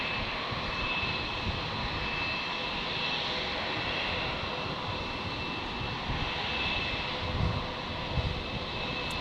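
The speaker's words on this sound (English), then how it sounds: "Another Dashie coming in." A QantasLink Dash 8 turboprop arriving at Brisbane airport, its engine noise a steady broad roar with a faint whine, heard from a distance outdoors and holding level throughout.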